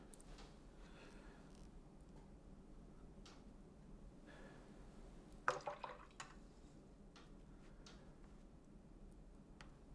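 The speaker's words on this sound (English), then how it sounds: "Add some more water to that." Water added to watercolour paint with a brush: faint soft drips and light liquid taps, with a brief louder splash-like clatter midway over quiet room hum.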